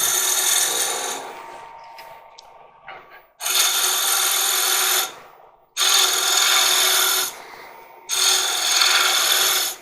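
A wood lathe doing spindle turning on the stem of a wooden goblet, with three loud, sustained bursts of tool-on-wood cutting divided by short quieter gaps where the spinning lathe hums softly.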